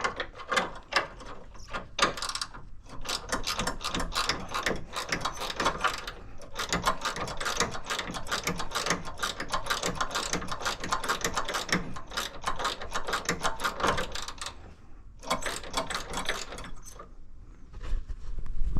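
A 10mm wrench ratchets steadily on bolts of a 4th-gen Firebird headlight motor. Rapid clicking runs almost continuously and close up, broken only by brief pauses.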